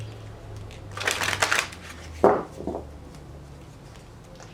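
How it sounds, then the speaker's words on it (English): A deck of cards riffled in a quick fluttering burst, followed by a few soft taps and slides as the cards are squared, close by. "One more shuffle."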